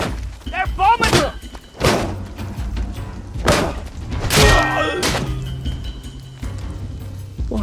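Heavy bombing thuds in the We Happy Few video game, several loud, separate booming impacts at irregular intervals, with shouting voices and ambient noise between them.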